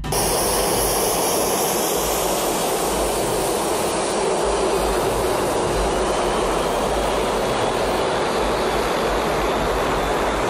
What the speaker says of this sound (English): A small crowd gathers to watch a commercial airliner take off.